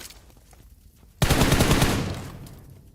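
Loud burst of gunfire in a PUBG Mobile North America scrimmage match, sudden and close, a rapid stream of shots that trails off after about a second, with no talk over it.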